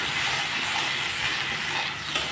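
Spice paste hitting a hot pan for a tomato fish curry, a loud, steady broadband sizzle and hiss that fills the clip without letting up.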